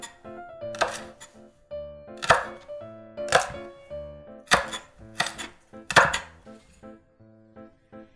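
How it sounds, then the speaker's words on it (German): A knife slices runner beans into thin strips on a board, giving about six distinct, close cuts at irregular intervals, with quiet gaps between and no talk. "Also in dünne Streifen schneiden."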